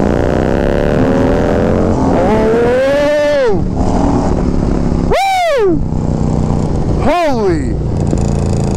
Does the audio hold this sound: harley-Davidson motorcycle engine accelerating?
yes